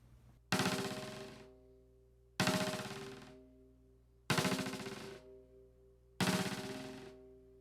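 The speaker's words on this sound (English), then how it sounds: "this part I call the cajon snare" Four sharp, rattling hits on a cajon snare with a bouncing ninja-tip stick, spaced evenly apart, each with a fast buzzing bounce that decays quickly, played alone with no talking.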